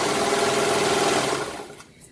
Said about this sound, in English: And now I'm serging my hemline.